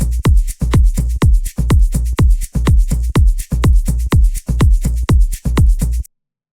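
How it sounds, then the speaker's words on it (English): An Afro house loop plays toms, shakers, a kick and bass in a steady, repeating groove. Punchy low kicks and bass hits land on a regular pulse under bright shaker ticks, loud and close, before the loop cuts off. "So we have the toms, the shakers, the kick, the bass, which sounds all like this."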